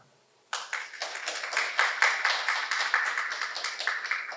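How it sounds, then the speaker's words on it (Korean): Audience applause at a business forum on digital transformation for mid-sized companies, starting abruptly after a short silence and continuing as a moderate, fairly even patter of clapping from a smallish crowd. "큰 박수 부탁드리겠습니다"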